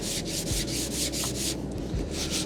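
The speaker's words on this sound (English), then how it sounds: "you want to keep your block with the panel" A sanding block is pushed back and forth across a car body panel on a widebody WRX, producing steady, loud, rhythmic rasping strokes close up, about a dozen even passes.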